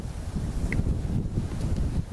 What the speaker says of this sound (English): I know it's a little windy, so you might not be able to hear me